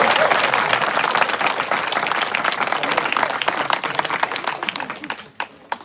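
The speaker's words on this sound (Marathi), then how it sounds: "आजची टाळी ही आपल्यासाठीच वाजवायची" A crowd gathered for a Mahanubhav pilgrimage walk bursts into sustained, dense clapping, loud at first and gradually thinning out into a few scattered claps.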